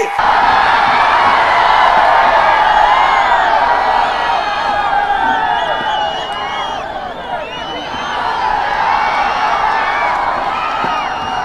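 Loud, dense crowd cheering and whooping at an AIADMK political rally in Tamil Nadu, a sustained roar of many voices that stays near and full throughout, easing slightly midway before swelling again.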